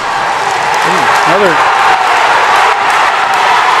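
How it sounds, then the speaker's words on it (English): A crowd at a state high school wrestling dual championship roars and claps in a continuous loud swell, with shouting voices rising through it and a commentator talking over the noise. "Listen to this crowd."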